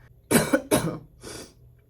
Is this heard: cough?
yes